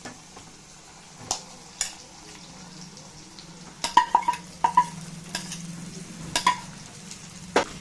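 Ground moong dal paste being fried in a pan for usili, a low background sizzle broken by a series of sharp spatula scrapes and taps against the pan, close and without talk.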